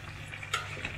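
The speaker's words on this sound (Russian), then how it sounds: "Перемешиваем." Pasta horns being stirred into chicken hearts in a pan, a soft continuous scraping and sizzle with one brief brighter clatter midway, close and fairly quiet, no talking.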